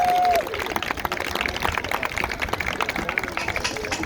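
Audience applause for a speaker at a PanCan Houston event: a sustained wash of many hands clapping fills the whole stretch at steady loudness, following a brief tone at the start.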